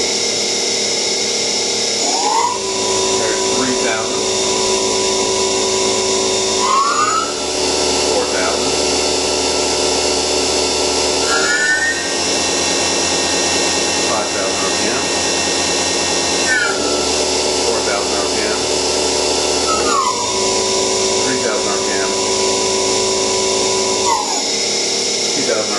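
A Tormach PCNC 1100 CNC mill spindle whines as it steps up through its speed settings, each jump marked by a rising pitch sweep before settling into a steady, louder tone; a belt-driven machine hum runs close throughout.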